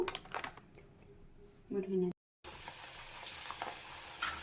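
Nippattu dough pieces fry in hot oil with a soft, crackling sizzle and a few louder pops, cut by a short silent gap partway through.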